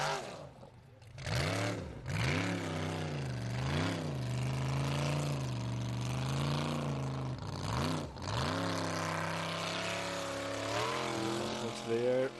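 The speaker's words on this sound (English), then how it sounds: "Now Atli Jamil driving the Raptor." A Raptor off-road truck climbing a competition hill, its engine revving hard and rising and falling in pitch as it surges and strains up the slope, loud and close throughout, with a commentator talking over it.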